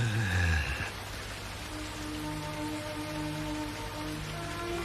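Steady rain patters down at night in an even, continuous wash, with a brief tonal sound fading out at the start.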